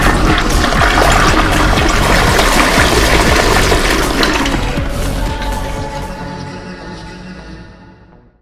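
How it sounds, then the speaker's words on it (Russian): A toilet flushes in a loud, rushing surge of water that keeps roaring for several seconds, then drains away and fades to silence. "Древнерусский смыв туалета."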